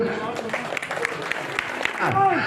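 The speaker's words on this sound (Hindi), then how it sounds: "इनके नाम की एक बार ताली बजा दो।" A crowd at a Congress party political rally for a ward 45 candidate in Jwalapuri, Delhi, breaks into brisk, scattered clapping, with voices talking and calling out over the applause, which grows fuller toward the end.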